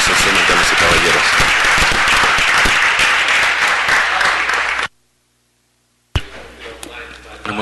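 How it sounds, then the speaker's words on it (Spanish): Loud, dense audience applause for Russell Simmons at a city council meeting, filling the room for about five seconds, then a sudden silence before a burst of mixed clapping and noise returns. "Por favor, démosle un fuerte aplauso"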